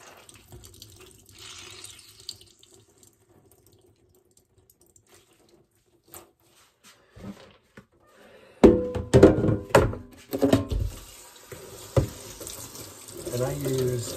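A cold-water tap runs while laundry is washed by hand in a sink. Near-silence and a few thunks come first, then the water splashes in loudly with handling noises.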